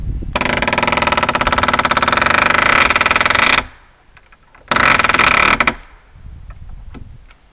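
A RIDGID pneumatic palm nailer hammers a nail in two loud, rapid buzzing bursts, a long one and then a shorter one, followed by quieter workshop sounds.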